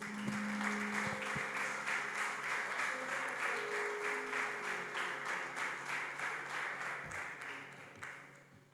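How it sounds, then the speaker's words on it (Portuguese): A church congregation claps in steady, rhythmic unison, a sustained round of applause with a faint voice and a low musical tone beneath. "Você pode dar uma salva de palmas para Jesus?"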